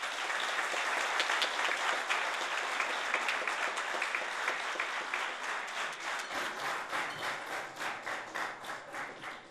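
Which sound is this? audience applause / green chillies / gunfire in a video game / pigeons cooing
audience applause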